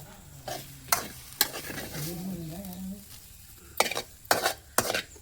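Gongura chutney with small onion pieces simmers and sizzles in a pan on a village stove. A low steady sizzle is punctuated by several loud spoon scrapes and clanks against the pan, and a faint voice is heard briefly.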